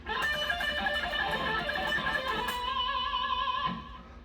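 An electric guitar plays a fast, distorted lead run from a guitar solo, dense sustained notes ringing loud and close for a few seconds before fading out, with no voices.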